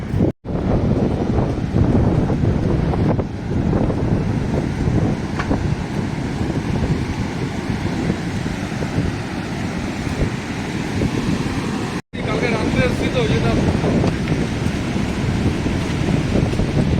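Wind and distant sea surf roar at Tajpur beach near a casuarina grove, a continuous loud rush with heavy microphone buffeting and no talking.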